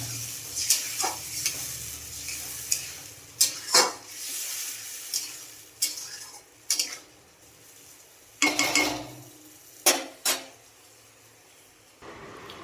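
Potatoes and pointed gourd cook in a spice masala, with a low sizzle broken by repeated sharp clanks and scrapes of a utensil stirring the pan.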